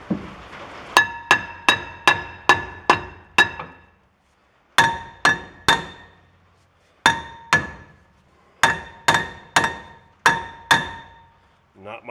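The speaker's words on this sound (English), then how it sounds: "Give it a couple taps with the hammer." Hammer strikes ringing on the rear brake rotor of a 2014 Chevy Silverado, bright metallic clangs in quick bursts of several taps, with pauses between groups, close and loud.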